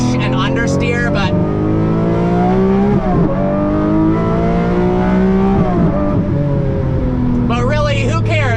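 A Lamborghini Murcielago SV's engine wails loud and close, its high-pitched note climbing steadily through the gears with brief dips at each shift and someone talking over parts of it.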